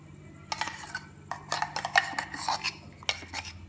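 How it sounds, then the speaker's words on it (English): Spoon stirring ground soaked almond paste into a pot of boiling milk for a sago badami drink, with intermittent clinks and scrapes of utensil against the pan in short bursts, fairly quiet. "I am adding the almond paste"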